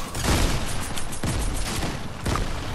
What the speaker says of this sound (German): schieß doch nicht die Granate zu mir